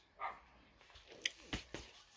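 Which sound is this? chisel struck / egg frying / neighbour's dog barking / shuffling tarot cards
neighbour's dog barking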